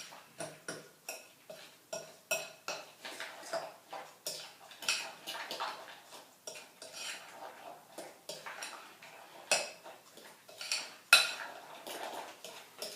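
A small fork stirs chocolate into an orange chocolate torte mixture, making irregular light clinks and taps against the bowl over several seconds in a quiet kitchen.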